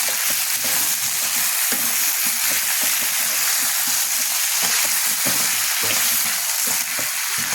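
Pieces of raw mango and brinjal go into a hot pan for a Telangana-style mixed vegetable pulusu, frying with a steady, close sizzle broken by repeated stirring scrapes and clatters.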